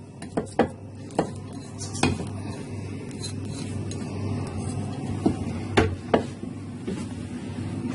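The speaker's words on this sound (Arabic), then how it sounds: "احط بقى بقيه البنجر بتاعي" Pieces of beetroot being placed into a pickling container, heard as sharp clinks and knocks of vegetable against the vessel scattered over a low background hum, close and fairly quiet.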